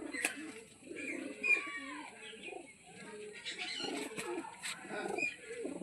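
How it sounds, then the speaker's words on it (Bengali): Domestic pigeons flying overhead during an evening pigeon-flying session, with soft repeated cooing notes scattered through the clip and some light background activity; moderately faint and fairly distant. "আরও কারোর উড়ছে পায়রা আকাশে"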